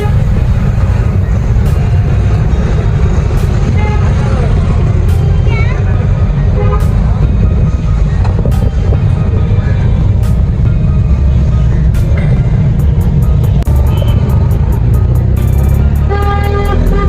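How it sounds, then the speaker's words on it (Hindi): Dense road traffic in Karachi, Pakistan roars steadily and loudly close by, with engines rumbling and scattered car horns tooting, short bursts near the end, under occasional talk. "ट्रैफिक बहुत है"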